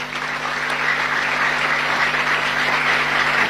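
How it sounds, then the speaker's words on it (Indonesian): A gathering at a talk on the founders of the Mambaul Ulum Bata-Bata Islamic boarding school breaks into steady, close applause from many hands, with a faint constant electrical hum underneath. "Tepuk tangan."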